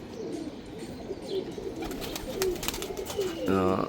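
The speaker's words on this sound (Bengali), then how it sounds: "অনেক দিন পরে নর্মাদি কবুতরগুলো একসাথে ছাড়লাম" Several pigeons coo together after being released, soft rolling calls repeating near the microphone, ending in a louder, closer coo; someone talks in the background.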